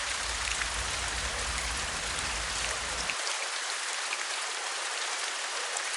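Steady rain pours down on a dreary September day, a dense, even hiss of falling drops that stays constant throughout, with a low rumble underneath that drops away partway through.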